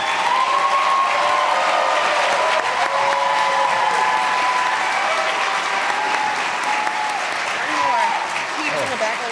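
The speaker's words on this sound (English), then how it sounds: "Let's give these students another round of applause." Audience applause at a veterinary medicine white coat ceremony, a dense sustained wash of clapping from a large crowd filling the room, loud and continuous, thinning slightly toward the end.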